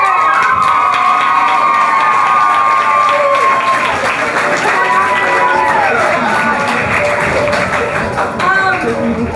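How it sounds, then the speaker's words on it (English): A middle school audience at a Christmas play claps and cheers for the stage crew, loud sustained applause mixed with children's shouts and whoops that carries on for several seconds. "Give a round of applause to the crew members"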